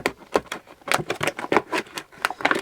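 The small blade of a Victorinox Rambler Swiss Army knife slices through plastic in a quick series of sharp, crisp crunches and snaps, close up and with no talking.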